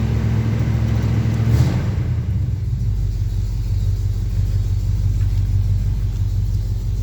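A 1985 Chevy C10 pickup truck engine idling while warming up, a steady low rumble with a brief swell early on, close and continuous with no talking.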